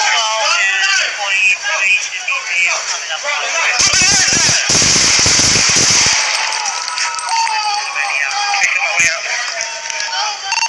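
A rapid burst of gunshots rings out during a police encounter with a knife-wielding man, a loud cluster of sharp cracks lasting about two seconds amid shouting and constant radio chatter.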